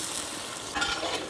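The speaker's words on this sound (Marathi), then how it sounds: "अदरक लसूण हिरवी मिरची पेस्टचा कच्चापणा जाऊसर परतवून घेऊ" Ginger, garlic and green chilli paste sautés in a hot pan, a close, dense sizzle with a brief swell of stirring scrapes near the end.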